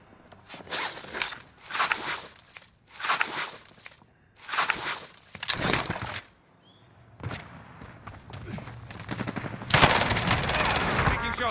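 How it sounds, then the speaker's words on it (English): Bursts of gunfire in a tactical shooter video game, several separate volleys with short gaps, loud and close, with footsteps and gear movement between them. "Shots."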